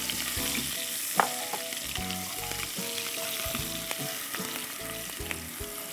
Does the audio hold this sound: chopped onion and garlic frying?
yes